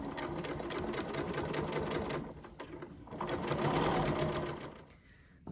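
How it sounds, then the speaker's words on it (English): Sewing machine stitching fabric for a Liberty London Bella tea dress, running in a steady rapid chatter for several seconds, pausing briefly, then resuming before stopping near the end. "and then keep on sewing."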